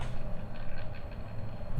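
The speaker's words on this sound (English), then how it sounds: "And that's not a very pleasant fan sound either." Cooling fan of a Godox SL-60W LED video light runs with a faint, steady, low whirring hum and no voices.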